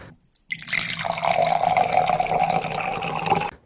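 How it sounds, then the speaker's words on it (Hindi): Water poured from a jug into a glass, a steady splashing trickle lasting about three seconds after a few faint knocks, then cutting off cleanly. "टेबल पर पानी का जग उठाकर गिलास भरने लगी।"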